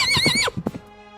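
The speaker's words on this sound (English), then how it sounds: "Prince John remounted his horse and rode after them." A horse sound effect gives a loud, wavering whinny, then a few quick hoof clops that trail off into quiet.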